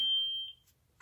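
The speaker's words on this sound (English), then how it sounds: "if you hold the auxiliary for a second, and let go and makes that beep. It goes into the volume menu" A single clear electronic beep from a Neopixel lightsaber hilt (Korbanth MPP 2.0) as it enters the volume menu, lasting about half a second and fading into near silence.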